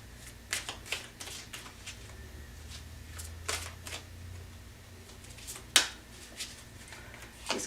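Tarot cards being shuffled by hand, a series of soft riffling flutters and light taps, close and clear, with one sharp snap partway through against a quiet room.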